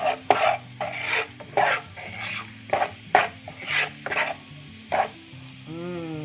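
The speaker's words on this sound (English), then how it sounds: "Just allow the curry to brown, to burn a little." Curry for Jamaican curried shrimp browning in a pan, a steady close sizzle with repeated scraping stir strokes roughly every half second and a brief clink of utensil on pan near the end.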